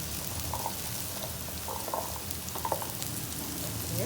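Asparagus stir-frying in sesame oil in a pan, giving a steady, fairly quiet crackling sizzle throughout with small pops and stirring scrapes.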